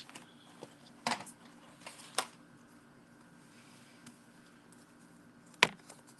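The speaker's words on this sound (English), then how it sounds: "Scissors." A few sharp, quiet snips of scissors cutting, spaced irregularly over a faint hum.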